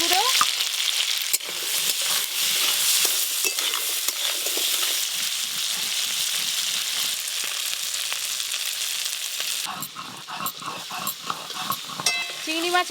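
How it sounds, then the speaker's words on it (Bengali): Crabs fry in a pan with salt and turmeric, a loud steady sizzle with scraping stirs throughout, the spatula clatter growing sharper and more rhythmic near the end. "কাঁকড়া বেশ লাল লাল করে ভালো করেই ভাজতে হবে"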